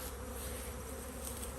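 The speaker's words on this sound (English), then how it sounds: "We should see like a couple of bees flying out of that." Bees buzzing steadily as they fly out of a nuc beehive when a small frame is pulled, a dense, continuous hum close by with no voices.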